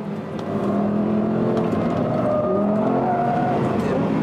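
Audi R8 evo driven hard around the Portimao circuit at night, with a loud continuous engine roar and shifting pitch as it accelerates through sweeping corners, close and steady throughout.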